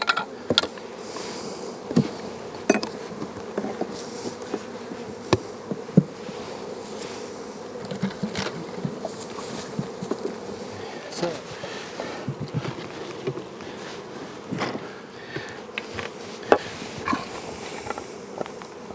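Honey bees buzz around hive colonies outdoors in spring, a steady dense hum close by with occasional soft knocks and handling noises.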